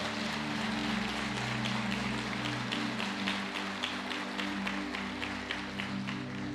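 A church congregation clapping in praise during a sermon, a broad, continuous patter of many hands over a sustained keyboard pad, with several sharper individual claps standing out toward the end.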